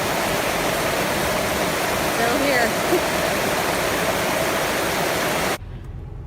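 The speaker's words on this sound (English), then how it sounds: "Raining like crazy." Heavy rain pours outdoors as a loud, steady, dense hiss that cuts off abruptly near the end, with a short spoken remark.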